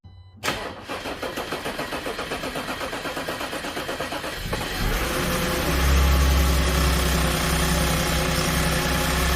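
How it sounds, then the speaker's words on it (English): A 2010 Audi Q5 with a 3.2L V6 FSI engine, just back together after carbon cleaning of the intake, cranks in a quick, rhythmic series, then catches and settles into a loud, steady idle heard up close, with no talking. "Now let's start the car and hope for the best."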